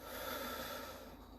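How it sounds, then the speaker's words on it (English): A long, deep breath drawn in during a guided chronic-pain relaxation session, a steady airy inhale lasting over a second, close and fairly quiet with no talking. "Taking a deep breath"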